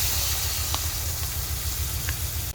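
Coconut milk sauce for galunggong fish bubbles and hisses steadily in a pan, a dense continuous simmer with a few faint clinks over it.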